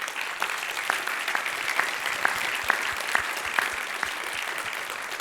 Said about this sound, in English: So one more round of applause for our friends from the commission